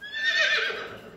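A short, bright horse whinny from the Stanley Farm Fresh children's game, a single shrill neigh that wavers and falls away within about a second, heard alone.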